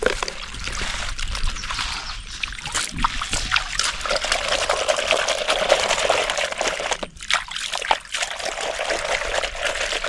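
Freshly caught fish being rinsed in water give a continuous close trickling and splashing, with uneven sloshes and a brief pause near the end.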